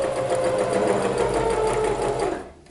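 A sewing machine runs steadily and close, stitching a fake serge edge along swimwear fabric with a fast, continuous whirring hum that stops abruptly near the end.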